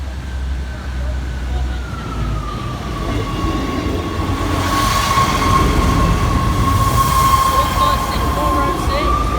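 A steam-hauled train rumbles past steadily and loudly at Lincoln High Street level crossing, with a sustained whining tone over the heavy rolling noise and a voice briefly heard.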